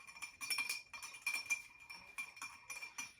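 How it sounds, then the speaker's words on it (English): An old fashioned cocktail with orange liqueur and a cherry being stirred in a glass, giving faint, rapid, continuous tinkling clinks of a spoon and ice, close by and with no talking. "Go ahead and just give it a stir."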